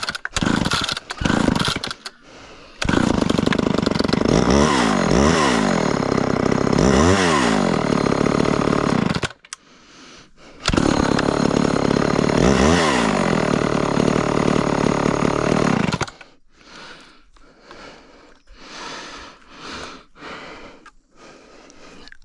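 Two chainsaws, a Homelite Super XL and an Extreme Power model, cutting in turns: loud, raw two-stroke engines rev up and bog down in long bursts through wood, then drop back to a rough idle.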